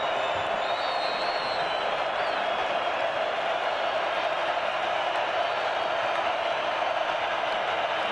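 Crowd at an FCS college football playoff game, UT Martin vs Montana State, roaring as a steady, loud wash of noise with no letup.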